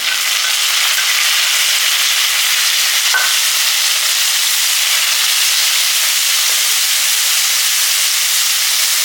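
Chopped tomatoes, curry leaves and rock salt frying in oil, producing a loud, dense, continuous sizzle that stays steady and close from start to finish.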